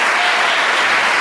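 A church congregation applauds together, a dense, steady wash of clapping hands filling the room with no pauses.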